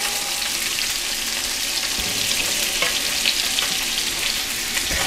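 A pat of butter sizzles steadily in a hot pan beside seared salmon, a dense, even frying hiss that stays loud and close throughout with no voices.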